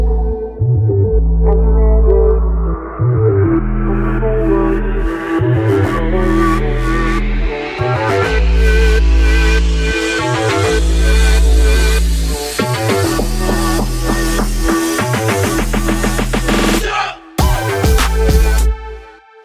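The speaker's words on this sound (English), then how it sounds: "the white noise just slowly builds up volume on its own." An FL Studio build-up: a pounding drum and snare pattern with a rising white-noise sweep that swells steadily louder, the noise brightening over about seventeen seconds before a brief drop and a final burst.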